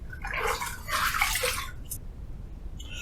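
A Yaqi Final Cut adjustable razor is rinsed under running water between shaving passes. A close, steady gush of water flows for about two seconds, then stops, leaving a quiet drip.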